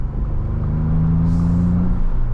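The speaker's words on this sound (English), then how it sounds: "I like that turbo noise also that's producing" Low, steady engine rumble from the turbocharged 2025 Ford Bronco Big Bend while driving, a continuous close drone with a brief faint hiss or whoosh midway, no talking.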